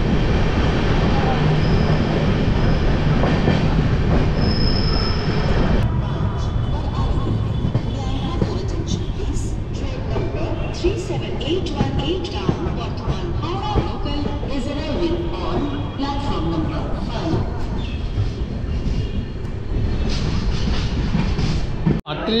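The 22387 Black Diamond Express, a new LHB-coach train from Howrah to Dhanbad, rolls through Hooghly station with continuous loud rumbling and clickety-clack of wheels over rails, close and steady throughout, with occasional faint voices.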